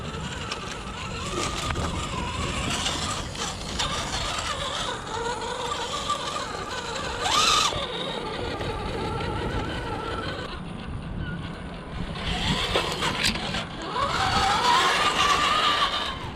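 An RGT EX86010-CJ 1/10 scale RC crawler with a 550 motor and split transmission whines and ratchets as it climbs, its gears grinding and rising in pitch under throttle bursts, close and continuous.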